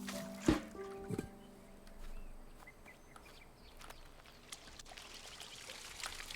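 Water pours in the gardening puzzle game Botany Manor, a brief splash and trickle at the start, followed by quiet ambience with faint ticks.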